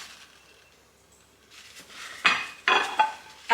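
A pie dish standing in for a deep-dish pan is handled and set down, giving a few clinks and knocks of dishware at the end after a quiet start.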